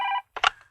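A landline telephone rings once in a short burst, followed by brief clattering as the handset is picked up, in an indoor scene from a Bengali comedy film.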